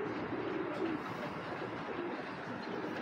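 A Dragon-line racing pigeon, grizzle tiger type, coos softly in low, rolling phrases against a faint steady background, with no voices.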